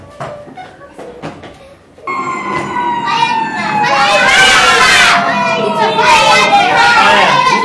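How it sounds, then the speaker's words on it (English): An emergency siren wails with rising and falling tones, growing louder partway through over a murmur of crowd noise, after a few earlier brief sounds. "All those vehicles, they use a siren."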